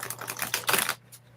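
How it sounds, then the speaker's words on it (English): Tarot cards shuffled by hand, a quick, crisp burst of riffling and flicking that runs for about a second, then drops to near silence. "Okay, this is the last shuffle."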